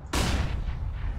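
A flashbang grenade goes off in Counter-Strike: Global Offensive, one sudden loud burst followed by a broad hissing ringing decay that holds for about a second.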